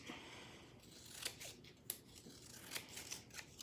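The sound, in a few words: scissors snipping paper for a carrot craft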